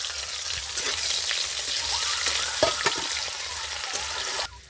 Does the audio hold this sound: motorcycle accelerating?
no